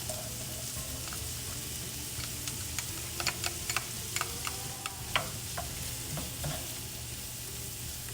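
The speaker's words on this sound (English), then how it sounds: "We're gonna saute this for about 5 minutes." Chopped onion and celery sauté in a pan with a steady low sizzle and frying hiss, broken by light clicks and taps of a spoon stirring the vegetables, close and continuous with no talk.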